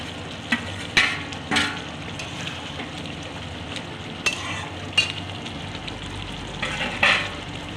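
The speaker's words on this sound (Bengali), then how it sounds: "এবার আমি পনির দিচ্ছি।" Paneer frying in a pan, a steady low sizzle with several sharp clinks and scrapes of a utensil stirring at irregular intervals, close and fairly quiet, with no talking.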